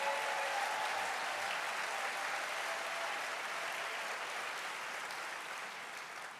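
A large convention hall audience at a general assembly session applauds in a steady, broad wash of clapping that slowly fades as it continues, with no talk.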